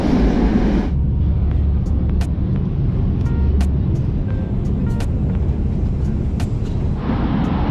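Moscow metro train running through a tunnel: a steady, loud low rumble and roar of the moving carriage with occasional clicks and squeals, continuous throughout, with a brief louder wheel hiss at the start and end.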